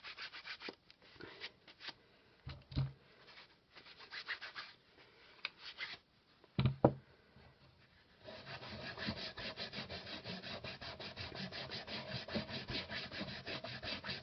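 A cloth rubs finish onto an old scrap of wood that was lightly sanded, a quiet rasping scrub in short strokes that turns into a fast, steady back-and-forth rhythm, close and with no talking.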